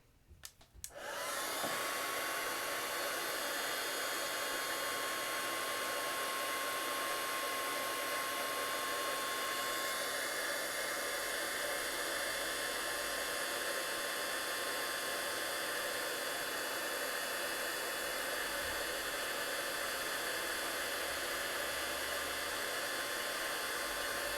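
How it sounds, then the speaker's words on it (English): A heat gun blows steadily to melt embossing powder sprinkled over a paper tree in a papercraft project, a loud continuous airy roar starting after a brief click and holding unbroken to the end. "I'm going to heat that up with my heat gun."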